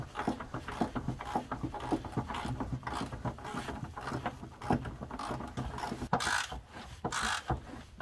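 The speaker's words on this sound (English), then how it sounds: "I'll ratchet it right up." A ratchet tightens the bolts on heavy duty Jones 5t twin leaf springs during a suspension upgrade, giving steady rapid clicking close by throughout, with faint metallic handling between pulls and no talking.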